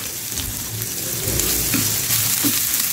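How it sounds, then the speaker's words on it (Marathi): Ground masala paste frying on low heat in a pan: a dense, continuous close sizzle with a few soft stirring scrapes, and no voice. "आता हे वाटण आपण कमी गॅस करून मस्त फ्राय करून घ्यायचं आहे छान असं।"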